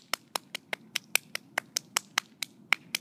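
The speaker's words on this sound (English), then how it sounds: "About everyone is clapping for me right now." Sharp, evenly spaced hand claps, about a dozen in a steady rhythm, close and fairly quiet against a soft background hum.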